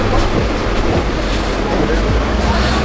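A crowded passenger train in motion, with a loud continuous rumble and rattle of the carriage filling the space close by, while indistinct chatter from passengers mixes into the noise.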